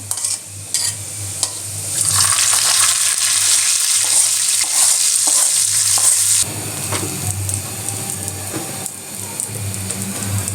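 Onions fry in a pan for chicken-foot nihari, a steady close sizzle that swells louder midway and then eases back, with occasional stirring scrapes and pan clinks.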